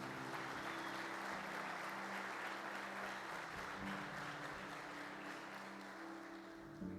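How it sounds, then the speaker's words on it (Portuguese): Church congregation applauding during a worship service, a dense, steady wash of clapping that fills the whole stretch at even loudness, with a low hum of sustained tones underneath. "Aplauda Jesus."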